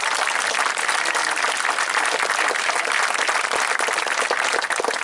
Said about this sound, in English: Please give our honor students a well-deserved round of applause.